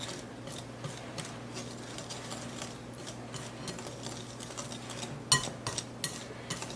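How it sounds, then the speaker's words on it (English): Baking powder, baking soda and salt are stirred together in a bowl, a run of quiet, rhythmic scraping and light clinks of the utensil against the bowl, close and soft with one sharper knock near the end. "And we're going to mix all this together until it's well incorporated."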